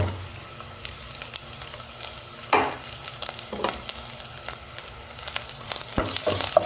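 Green chili with crushed ginger and garlic sautéing in a pan for a fried fish curry, a faint continuous sizzle with occasional scraping stirs of a spatula, with no talk.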